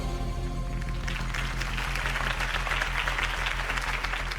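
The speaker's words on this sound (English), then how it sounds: "If only Mr. Wayne, my campaign's largest backer, could have heard that applause" A crowd applauds after a campaign speech, the clapping swelling in after a low musical hum and holding as a dense, steady burst of many hands at moderate distance.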